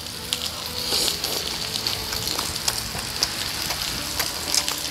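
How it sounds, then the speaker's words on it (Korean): Black pork belly sizzles on a hot stone grill plate at a Jeju barbecue restaurant, a continuous crackling hiss like rain with scattered sharp pops, heard close with no talk. "고기 소리 들으니까 되게 좋다. 근데 빗소리 같아."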